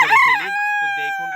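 Brahma chickens in a cage give a loud, close crow that holds a steady drawn-out tone after a rough start, with short clucks following, as the birds turn aggressive and scuffle.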